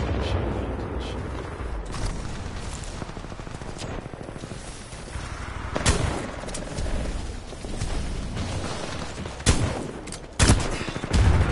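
Bursts of machine gun fire from a video game, rapid rattling volleys and sharp booms scattered through dense game noise, with someone talking intermittently over the action.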